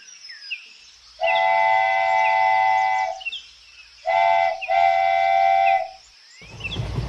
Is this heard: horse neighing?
no